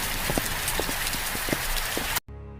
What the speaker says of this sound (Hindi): आज तो कितनी तेज बारिश हो रही है